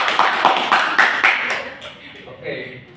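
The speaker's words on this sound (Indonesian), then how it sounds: "tepuk tangan dulu" Classroom applause during a microteaching lesson: a short burst of several people clapping close by, with sharp uneven claps that thin out and fade within a couple of seconds.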